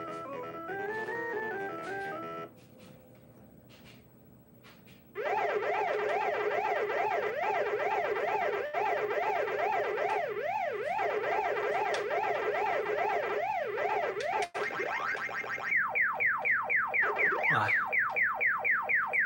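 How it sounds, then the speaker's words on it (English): A wailing alarm-like siren from the Ghost Monster in the video game Pac-Man World 2 cycles loudly in rapid, regular up-and-down sweeps, starting after a softer warbling tone and quickening its whoops toward the end. "the Ghost Monster's siren doesn't change pitch"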